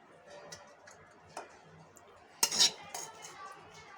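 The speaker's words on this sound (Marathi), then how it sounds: "भाजी आता मी बाऊलमध्ये काढते" Cooked ivy gourd being served from a pan into a bowl, heard as quiet, sparse clinks and scrapes of a spoon against cookware, with one sharper, louder metallic knock near the middle and no voices.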